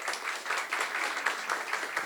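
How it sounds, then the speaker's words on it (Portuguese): An audience at a corporate and startup engagement event gives a brief round of applause, a dense, even patter of many hands, moderately distant and unbroken. "Uma salva de palmas, muito bem-vindo."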